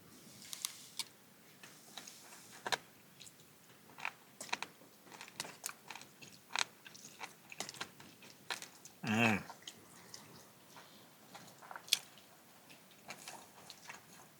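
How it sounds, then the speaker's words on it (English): Someone chews ham hock with soft, intermittent wet clicks and bites that repeat at an irregular pace, close and quiet against a faint background. "Gonna try some of this ham hock."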